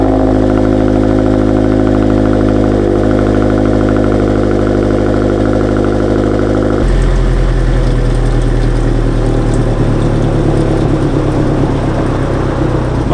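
A 2022 Subaru WRX fitted with an AWE Touring catback exhaust holds a loud, droning rev at steady RPM, then the tone drops and turns rougher and deeper, heard close and alone.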